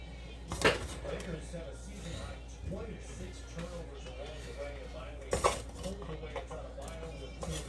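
A spoon stirs rice into chicken soup in a pot, giving soft scraping and a few sharp clinks against the pot's side, while someone talks over it.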